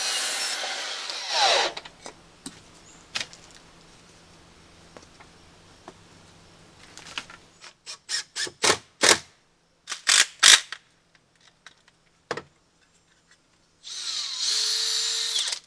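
A power drill drives screws into wooden shelf bracket strips, with short whirring bursts and a rapid series of clicks and taps from handling the wood, plus longer rougher buzzing at the start and end, with no speech.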